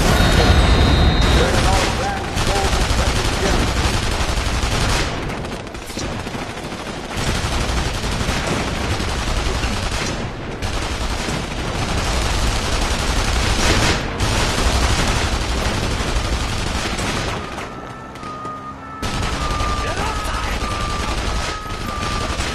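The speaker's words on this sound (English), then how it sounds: "Gunfire!" Loud, relentless gunfire and explosions roar nearly nonstop in the video game The Saboteur, with bursts of rapid shots and heavy booms layered over a chaotic battle din.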